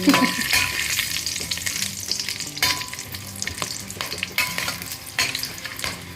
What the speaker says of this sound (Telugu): నూనె వేడెక్కక బిర్యానీ ఆకులు చూపించిన గరం మసాలాలు వేసుకోవాలి